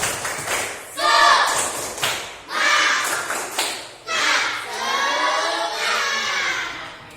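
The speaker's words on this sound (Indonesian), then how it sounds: "Tepuk semangat." A classroom of children performs a rhythmic spirit clap chant, with bursts of claps and group voices rising in repeated phrases, loud and close, under a teacher's speech.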